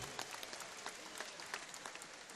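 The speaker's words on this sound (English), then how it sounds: "How about a big round of applause for both heavyweight warriors right here in the ring." A crowd claps in sustained applause for two heavyweight fighters in a boxing ring, a dense patter of many hands, fairly distant and even throughout.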